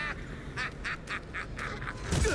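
Goose in the video game Atomic Heart giving a rapid series of nasal honks in a steady rhythm, fairly close, over constant game background noise.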